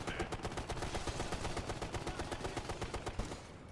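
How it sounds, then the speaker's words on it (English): Heavy machine gun fire from a vehicle in Ghost Recon Future Soldier, a loud, continuous burst of rapid evenly spaced shots that runs without pause throughout. "So heavy machine fire from that vehicle."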